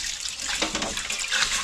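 Beans being washed in water, with a steady close slosh and splash of liquid stirred by hand, continuous and fairly loud with no voices.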